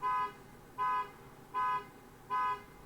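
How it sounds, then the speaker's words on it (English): Outside in a parking lot, a car horn beeps four times at an even, repeating pace. Each short toot is clear but slightly distant, with quiet background noise in between. "Beeping in from outside."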